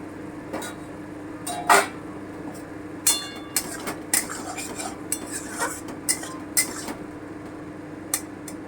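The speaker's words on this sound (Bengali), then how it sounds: "এবারে ঢাকাটা তুলে একটু দেখে নিই" A metal lid lifted off a cooking pot of potatoes in masala, with a series of sharp metallic clinks and clatters of pot and utensil over a low steady hum, close and moderately loud; no talking.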